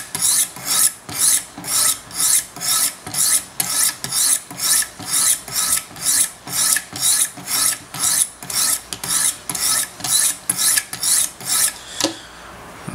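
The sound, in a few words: Wicked Edge sharpener stones honing knife micro bevel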